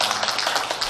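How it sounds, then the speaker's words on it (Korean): Church congregation applauding during a Sunday service, a brief burst of dense clapping from many hands, loud and close. "한영희 박수 한번 할까요?"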